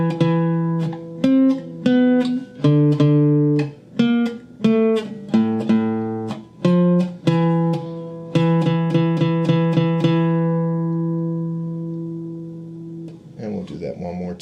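Flamenco guitar playing an easy beginner bass line rhythm, a phrase of bars nine through twelve: plucked low notes in a steady pulse with ringing strums, played alone and close, ending in a sustained chord.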